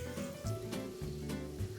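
Pork jeyuk-bokkeum stir-fry sizzles faintly in a frying pan, a soft continuous crackle with small pops and no voices over it.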